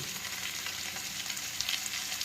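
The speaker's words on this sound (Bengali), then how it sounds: "আলু পেঁয়াজ কালি পেঁয়াজ একসাথে ভালো করে ভেজে নিয়েছি" Dense, continuous frying sizzle of potatoes and onions in a hot pan, bright and close, with no voices.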